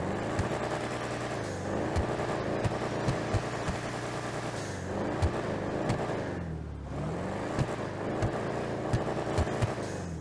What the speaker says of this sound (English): Let's take a listen to what the Vapid Clique actually sounds like.